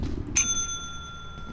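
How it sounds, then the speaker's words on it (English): A ship's bell in the video game Lethal Company is struck once, loud and close, then rings on with a long, clear, fading tone over a low background hum. "God, that bell's loud."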